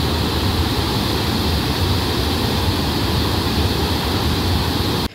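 Usri waterfall near Dhanbad roars as a loud, steady broadband rush of falling water, close and constant with no voices, cutting off abruptly at the very end.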